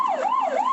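A police car siren wails at night on Tamsui Old Street during a chase, a loud, close, smoothly rising and falling tone heard alone.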